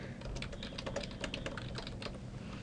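Soft, rapid keystrokes on a computer keyboard click along continuously in a quiet room, fairly faint and evenly paced throughout.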